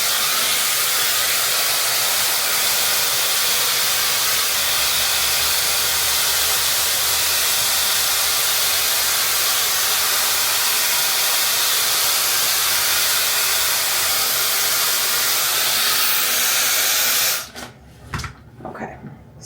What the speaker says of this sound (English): I'm gonna go in with this dryer.